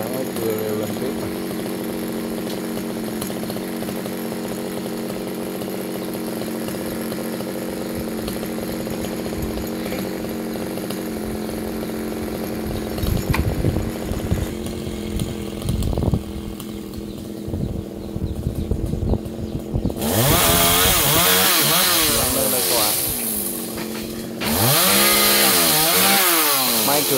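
A G370 chainsaw cuts through a golden wattle tree near a fish pond and a house, its engine droning steadily, then revving hard and loud in close bursts toward the end.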